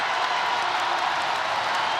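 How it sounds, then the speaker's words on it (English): A capacity crowd roaring in a women's college basketball arena, a dense, sustained wash of cheering and clapping with no break. "here comes the capacity crowd now in full throat"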